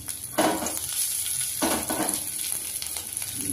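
Mustard seeds crackle and pop sharply in hot oil over a steady, loud sizzle, with irregular bursts of spattering and no voices.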